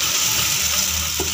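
Onions browning in hot oil for dal karela, a loud continuous frying sizzle close by with a brief stirring scrape near the end.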